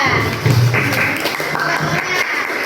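A class of schoolchildren claps for a classmate, Rangga, in a dense, steady patter that lasts throughout, with voices talking over it.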